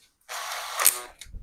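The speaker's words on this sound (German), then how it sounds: "Ich verschraube es jetzt mit 3x25er Schrauben, einmal von hinten." Cordless drill driving small 3x25 mm screws into wood for a router holder, a single steady whirring run of about a second, close and fairly loud, ending with a brief clunk.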